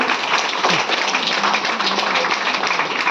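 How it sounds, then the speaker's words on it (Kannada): Audience at a Women's Day event claps steadily in a dense, even wash of applause that holds at a moderate level throughout, with faint voices underneath. "ಒಮ್ಮೆ ಪ್ರೀತಿಯ ಜೋರ ಚಪ್ಪಾಳೆ."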